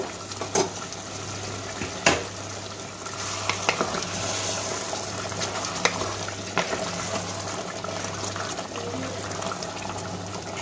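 Hot water poured into a sizzling Bengali-style mutton curry gravy in a pan, giving a steady frying hiss with a low bubbling hum, stirring and occasional clinks, close and continuous.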